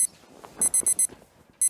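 An alarm clock rings in rapid electronic beeps, four shrill bursts in quick succession then a pause and another burst, loud and close over faint background murmur.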